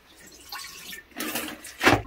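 Food is washed under running water from a tap, with splashing bursts that swell and fade, ending in a louder gush, no talking.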